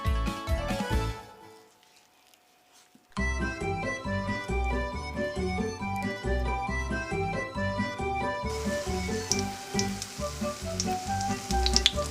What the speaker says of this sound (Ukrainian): будемо обжарювати фучки на вже розігрітій сковороді